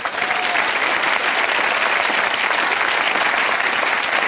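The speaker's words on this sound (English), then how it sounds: "our pioneering audience, give yourselves a round of applause" A television studio audience applauds steadily and loudly, a dense, even wash of many hands clapping together without a break.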